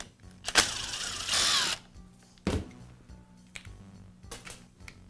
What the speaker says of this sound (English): Now I'll remove the cord clamp.